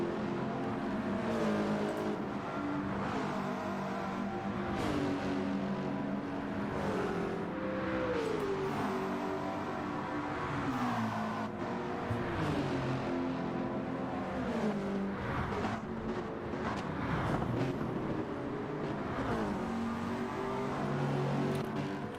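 Race car engines in Gran Turismo 7 on the Orosei circuit whine and rise and fall in pitch as gears shift. Several cars blend into a continuous droning roar.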